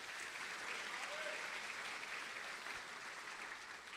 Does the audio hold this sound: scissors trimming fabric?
no